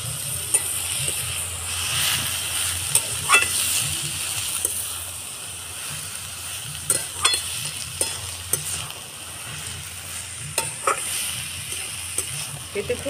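Ash gourd with roasted coconut is stirred in a sizzling pan, a steady fry hiss broken by repeated sharp scrapes and clicks of the spatula, while someone talks over the cooking.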